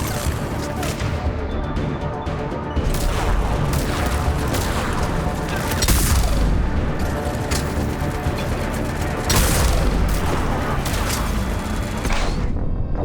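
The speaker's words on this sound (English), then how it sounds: "Oh, the grenade killed me." Explosions and gunfire from a Mass Effect 3 firefight, with a grenade blast among repeated loud booms and crashes over dense continuous combat noise.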